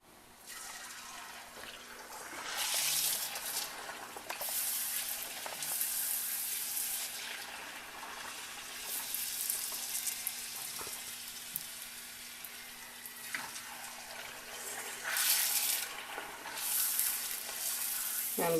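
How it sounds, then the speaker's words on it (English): Puris for pani puri fry in hot oil over medium-high heat, a continuous bubbling sizzle with bursts of louder crackle as dough pieces are added and turned, mostly without talking. "So I will fry the puris"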